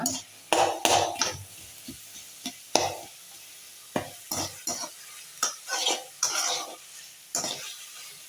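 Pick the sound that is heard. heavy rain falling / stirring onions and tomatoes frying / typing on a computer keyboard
stirring onions and tomatoes frying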